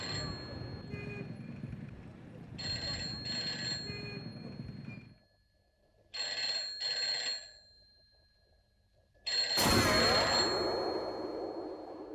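An old-style telephone bell rings in bursts on a Hindi TV serial, with two-tone trills repeating across a busy, music-laden scene before a loud swell of dramatic sound at the end.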